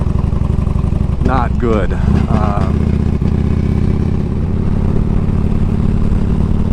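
Old 20-year-old Harley motorcycle rumbling steadily along a gravel stretch of the Alaska Highway, its low engine drone continuous under wind noise, with someone talking briefly over it.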